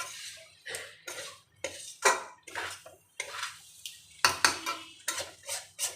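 Taro curry stirred in a metal wok, a spatula scraping and clanking in irregular bursts, loud and close with short pauses between strokes.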